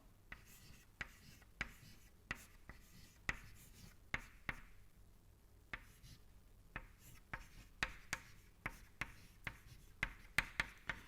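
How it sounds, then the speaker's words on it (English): Chalk or pen writing an equation during a fluid mechanics lecture makes close, quiet, rhythmic taps and scratches that come in steady irregular strokes over a faint room background. "I am just writing the equation straight away."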